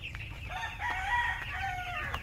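Chickens on a small vegetable farm, with a rooster crowing faintly in the distance, a drawn-out call over low background rumble.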